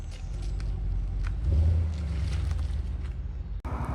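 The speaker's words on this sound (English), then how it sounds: "You can always hear a V8 rumbling in the distance." A V8 engine rumbles at a car meet, a low steady drone with a brief swell, heard outdoors under wind noise before cutting off near the end.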